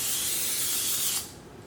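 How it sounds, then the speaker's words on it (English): Cooking spray hisses out of a can onto a 9 by 13 baking pan in one continuous burst of a little over a second. It is close and clear and stops abruptly. "we'll spray a 9 by 13 baking pan"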